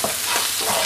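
Egg sautéing with coriander and mint in a pan, a steady close sizzle with a few soft stirring scrapes, brief and fairly loud with no voices.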